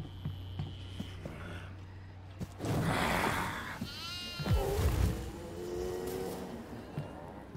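Goat bleating inside a video game on a farm level, a wavering cry rising clearly over game noise and brief engine-like sounds in the middle of the stretch.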